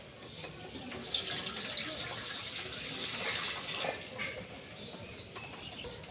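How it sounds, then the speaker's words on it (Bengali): Water runs from a tap into a cooking pot in a continuous, moderately quiet gushing stream that rises and falls slightly, with faint background noise. "দিয়ে দেব জল"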